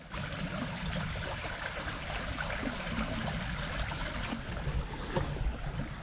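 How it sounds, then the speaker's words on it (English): Water babbles and gurgles steadily along a woodland stream on an early spring morning, a continuous close rush with no voices. "Hear the water gurgling by."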